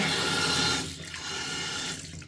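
A compact waterproof electric shaver rinsed under a running tap, loud gushing water for most of the moment, dipping briefly as the flow shifts, with no talk.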